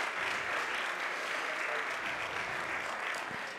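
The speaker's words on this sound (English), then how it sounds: "A round of applause" Conference audience applause fills the room in a steady, dense patter of many hands clapping, continuous throughout and fading only slightly at the end.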